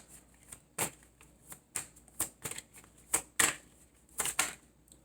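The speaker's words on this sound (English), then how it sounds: "May I have another card, please?" A deck of cards is shuffled by hand, producing a series of short, crisp riffling bursts at irregular intervals, close up and fairly quiet.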